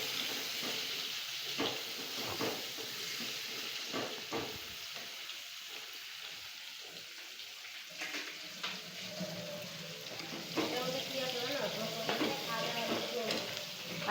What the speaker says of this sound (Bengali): এখন এগুলো ভাজা ভাজা করে নেবে।